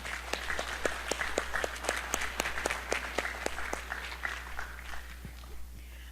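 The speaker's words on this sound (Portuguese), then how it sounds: "vamos fazer uma saudação batendo palmas" An audience at a trade union event claps hands in honour of the union's founders, the applause steady and fairly close with distinct individual claps, fading toward the end over a constant low hum.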